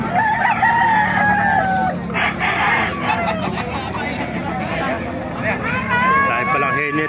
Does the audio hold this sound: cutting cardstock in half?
no